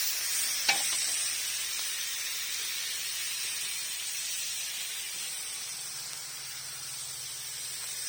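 Chopped tomatoes frying in a little oil in a pan for menemen, a steady close sizzle with broad hiss throughout and one brief clink near the start.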